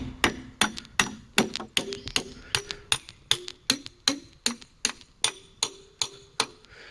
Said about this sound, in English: That high-pitched ting sound means it's hit the bottom.